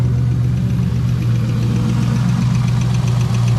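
A swapped 5.3 V8 running steadily in a Nissan 240SX, a constant loud low engine drone with a light rapid tick from a suspected bent valve buried within it.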